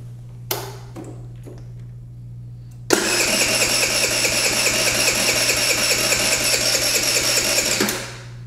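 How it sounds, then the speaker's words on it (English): A scooter engine cranks over after a few clicks, then a loud, steady whirring drone runs for about five seconds before cutting off. "We'll crank the motor over and see what she does."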